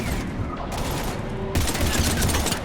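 Sustained gunfire at Husks in Mass Effect 3, a dense rattle of rapid shots that gets louder and heavier partway through, set against battle noise.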